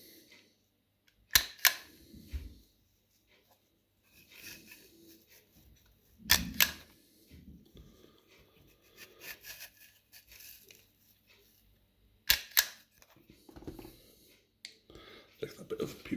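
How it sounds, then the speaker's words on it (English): A stapler punches staples into a scouring pad while hedges are made for Warhammer terrain: three sharp, loud clacks spaced several seconds apart, each followed by quieter handling rustles and fumbling. "when stapling this time, try and avoid these little notches that you've just cut into this"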